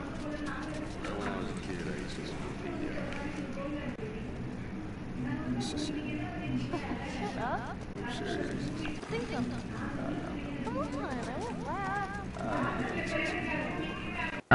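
A horse in the video game The Last of Us clip-clops along in steady hoofbeats and gives a whinny, with birds cooing in the background and a person talking throughout.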